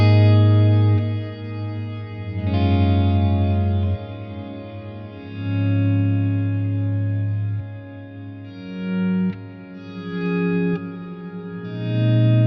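Swelling guitar chords through a Fractal Audio modeler wash in and out, soaked in long reverb and chorus, sustaining and overlapping into a lush ambient drone.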